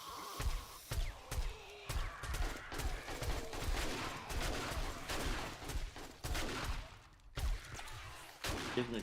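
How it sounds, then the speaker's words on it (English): Gunfire in the survival game 7 Days to Die as shots tear out floorboards: rapid bursts of loud shots in quick succession, nearly continuous with brief gaps, close and punchy. "Kismet shooting the floorboards out"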